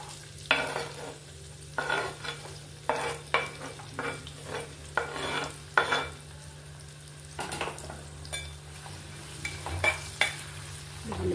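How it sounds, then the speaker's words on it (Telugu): Onions and green chillies fry in hot oil in a clay pot, a continuous close sizzle punctuated by regular scraping stirs of a spatula against the pot. "ఉల్లిపాయలు పచ్చిమిర్చి బాగా ఫ్రై అవ్వాలి"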